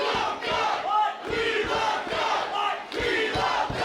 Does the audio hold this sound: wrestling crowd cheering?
yes